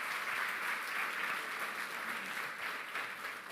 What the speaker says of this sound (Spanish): Dale ese aplauso más fuerte al Señor.